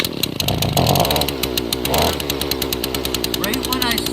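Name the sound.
two-stroke engine being pull-started with choke on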